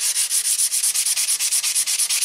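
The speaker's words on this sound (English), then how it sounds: "I actually like to hold the sandpaper kind of like that," Sandpaper rubbed back and forth over the frets of a Yamaha Revstar guitar, a loud, close scratchy hiss in quick, even strokes, about eight per second, with no talking.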